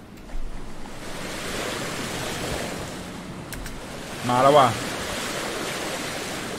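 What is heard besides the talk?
sea waves and strong wind in a video game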